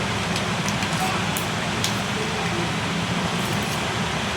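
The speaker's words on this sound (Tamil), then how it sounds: "கடுகு உளுந்தம் பருப்பு நல்லா இந்த மாதிரி பொரிஞ்சு வரணும்" Mustard seeds and urad dal spluttering in hot oil for an oil-brinjal stir-fry: a loud, dense, continuous crackling sizzle, close up and unbroken throughout.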